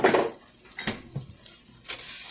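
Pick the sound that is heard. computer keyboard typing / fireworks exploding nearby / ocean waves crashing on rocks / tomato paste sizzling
tomato paste sizzling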